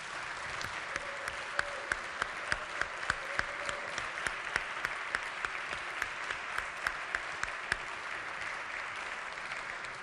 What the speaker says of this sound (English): I'd like the House to give him a round of applause